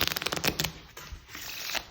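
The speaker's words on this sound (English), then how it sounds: "You're gonna have the spectator cut the deck in half and give it a quick riffle shuffle." Riffle shuffle of a deck of playing cards, a close, rapid flutter of cards snapping together that fades into a softer rustle.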